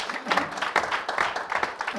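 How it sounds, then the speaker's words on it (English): Brief, dense applause from a charity mile draw audience, irregular clapping bursts for a couple of seconds with some voices mixed in. "Give Vusi a round of applause."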